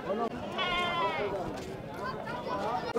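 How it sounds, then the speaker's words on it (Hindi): Goats at a livestock market (bakra mandi) in Lucknow, India, bleat in long wavering cries close by, with people talking over the market noise. "ये सारे बकरे लगाए हुए हैं इन्होंने।"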